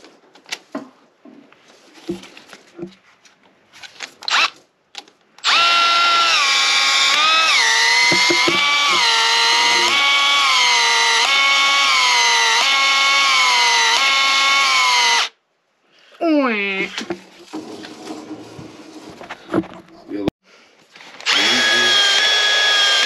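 A cordless power drill with a fresh battery runs at high speed in long, loud, steady whines during plumbing work, stopping briefly, spinning up again, and preceded by faint shuffling and knocks.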